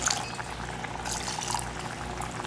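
Water pours steadily into a pot of Caribbean stewed beef, a continuous close splashing and gurgling with no talk.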